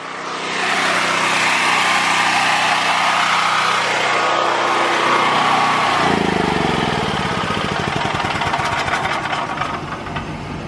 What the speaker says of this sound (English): let's turn this generator off because it's pretty late.